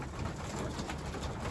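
Homing pigeons coo softly and continuously in a loft, a low murmuring of several birds heard close by without any talk.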